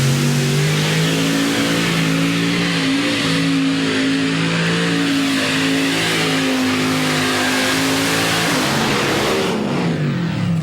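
A modified pulling tractor's engine at a 1996 USHRA tractor pull in Bowling Green, roaring loud and close at a sustained high rev with a steady droning pitch, dropping away near the end.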